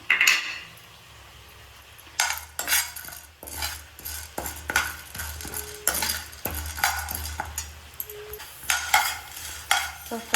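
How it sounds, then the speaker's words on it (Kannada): Almonds frying in ghee in a pan, a low background sizzle broken by repeated scraping and clinking of a spoon stirring against the metal, close and irregular. "ಇದನ್ನು ಸ್ವಲ್ಪ ತುಪ್ಪ ಹಾಕಿ ಫ್ರೈ ಮಾಡ್ಕೋಬೇಕು"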